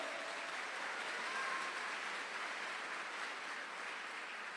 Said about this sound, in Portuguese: Por isso, pode aplaudir e glorificar o Senhor?